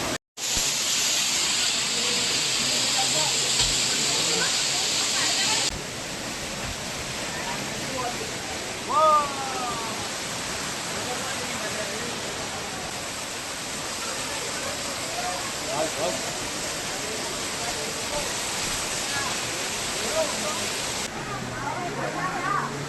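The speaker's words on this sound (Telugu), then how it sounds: "కొండపై నుంచి వస్తాయి వాటర్" Water pours down a hillside at Tirumala in a steady, loud rushing hiss that swells and eases slightly, with voices talking intermittently over it.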